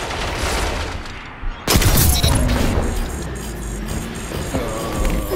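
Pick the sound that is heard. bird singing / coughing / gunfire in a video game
gunfire in a video game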